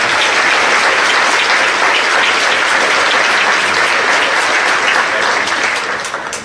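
Audience applause after a performance at a 2017 State of the City address: dense, loud, steady clapping from a large crowd that holds through the clip and begins fading at the end.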